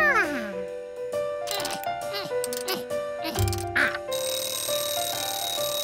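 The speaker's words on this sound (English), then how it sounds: "The ringer hit the bells when the alarm went off." A bright ringing alarm clock bell clatters near the end, after a stretch of cartoonish tones and voices speaking.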